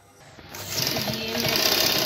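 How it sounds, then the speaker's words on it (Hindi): A sewing machine runs a line of stitches attaching lace to fabric, its motor whirring up from a quiet start into a steady, close, continuous drone. "सिलाई आई थी नहीं लगी तो मैं दोबारा सिलाई लगा देती हूँ।"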